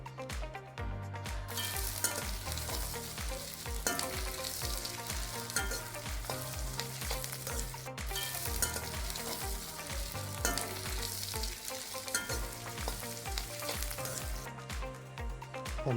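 Chopped capsicum sautés in a hot pan over high heat, a dense continuous sizzle and crackle with rhythmic scraping of a spatula, steady and close, no voices.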